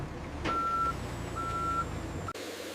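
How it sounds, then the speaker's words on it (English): A refrigerated reefer truck at a pharmacy distribution loading area sounds two steady reversing beeps over a low idling engine rumble, then cuts off abruptly. "Finished pallets load into reefer truck, departing for nationwide pharmacy distribution."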